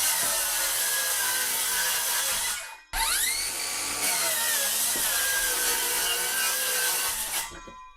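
A power saw rips through a bathroom subfloor along a marked line at set depth, a loud continuous whining cut with a brief pause and restart, running steadily to the end.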